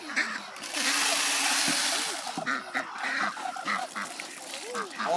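Ducks quacking in the farming video game farmLife: a cluster of repeated nasal quacks over a splashy, watery hiss, with talk running alongside.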